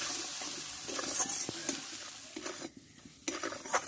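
Spice paste with turmeric and salt stir-fried in a pan for a raw green banana curry, with a soft sizzle under brief scraping and clinking of a spoon against the pan, close by and without talk.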